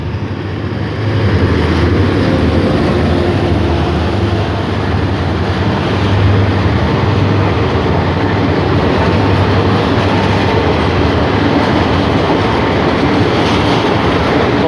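A Hitachi diesel locomotive train with JR West carriages rumbles steadily past a railroad crossing nearby for the whole stretch, a continuous heavy roar with a low engine drone and faint rail clatter underneath.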